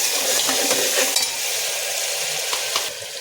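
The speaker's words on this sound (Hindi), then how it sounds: "अब इसको थोड़ा सा भून लेंगे अदरक लहसुन को" Ginger and garlic fry in oil for a spiced jackfruit curry, giving a steady close sizzle with a few faint clinks of stirring throughout and no voices.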